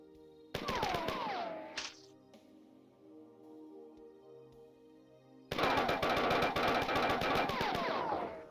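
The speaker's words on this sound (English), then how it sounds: "the machine gun even stuns the hunters" Machine gun fire from the 1994 shooter Marathon, with a short rapid burst near the start and a longer, loud sustained stream of automatic shots at the end, separated by a quieter gap.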